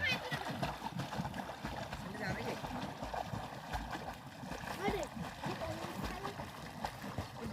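Someone swims in a river at Majuli, making soft, irregular splashes and water churning close by while people keep talking over them.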